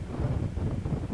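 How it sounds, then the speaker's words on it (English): Strong headwind buffeting a microphone, a steady low rumbling roar that fills the whole moment without any break. "He had a good, high, strong headwind."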